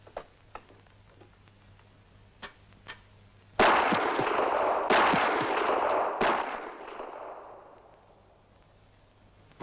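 After a few faint ticks, three loud gunshots boom in succession outdoors in a Western adventure setting, each followed by a long rolling echo that slowly fades.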